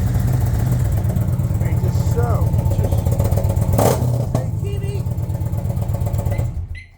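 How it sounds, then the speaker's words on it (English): A loud engine exhaust idles with a steady deep burbling rumble close by, a voice talking over it before the sound cuts away at the end. "It's a loud exhaust."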